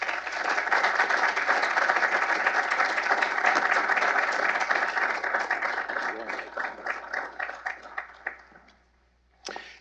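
An audience at the Heritage Foundation applauds Senator Mike Lee with dense, loud, sustained clapping that thins into scattered claps and fades away after about eight seconds.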